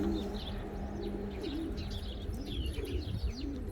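Pigeons cooing in low, repeated rolling calls that run steadily throughout, with scattered higher chirps from other birds over a constant outdoor background hum.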